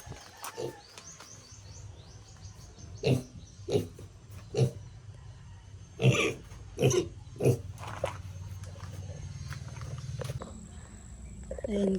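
Pigs grunting at feeding time, a string of short, abrupt grunts and snorts at irregular intervals over low background noise, with a few faint chirps and a voice talking in the background.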